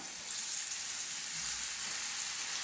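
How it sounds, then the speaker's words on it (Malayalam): Bombay mixture batter fries in hot oil with a soft, even sizzle and a continuous fine crackle that holds through the whole short stretch without pause. "ഞാനിപ്പോൾ ഇതിലേക്ക് ഈ ഒരു ബാറ്റർ ഒഴിച്ചു കൊടുക്കുകയാണ്."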